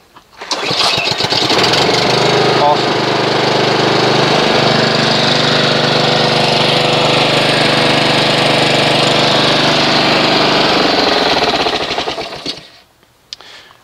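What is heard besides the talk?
Honda HRX217HYA lawn mower engine starting and running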